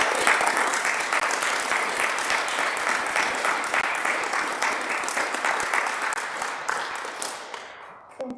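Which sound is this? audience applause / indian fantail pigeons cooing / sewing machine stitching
audience applause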